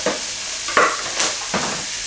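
Plant-based mince fries in a pan for a vegetarian chilli, making a continuous hissing sizzle broken by three or four scraping stir strokes at a slow, regular pace.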